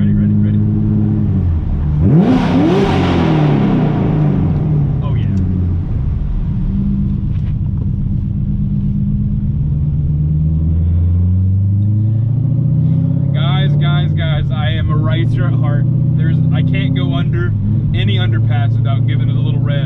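A C7 Corvette Z06 engine revs hard in an underpass, a loud, deep rumbling surge that rises and falls. It then settles into a steady, heavy idle drone, while voices talk over the engine later on.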